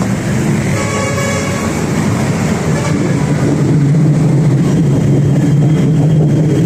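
An MRT train rumbles past close by with a steady heavy roar and rattling wheels, a horn-like tone sounding within the noise.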